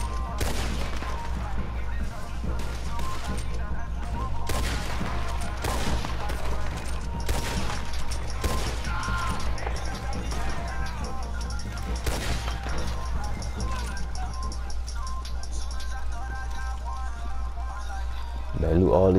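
Gunfire in Red Dead Redemption 2, a chaotic firefight with repeated sharp shots and bursts, some loud and close, others distant, mixed with game sounds and someone talking over them.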